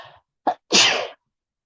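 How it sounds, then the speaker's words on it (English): A single sneeze: a quick breathy intake followed by a sharp, explosive burst, close and alone, then silence. "I'm going to sneeze."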